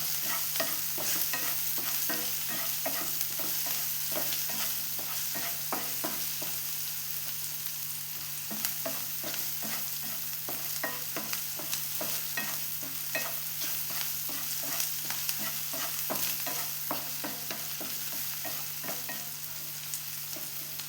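Onions with salt frying in a pan for tomato rice, stirred continuously: a dense, even sizzle with quick, closely spaced scraping and tapping strokes of a spoon throughout.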